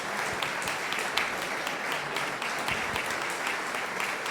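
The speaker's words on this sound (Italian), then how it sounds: "Grande applauso, veramente." Steady audience applause fills the hall after a military cavalry brigade band performance, dense and continuous clapping at a constant level throughout with no voices standing out.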